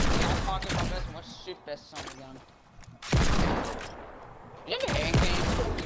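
Bursts of rapid gunfire ring out during a Fortnite duos match, loud and clipped with pauses between volleys, while a player talks over the action.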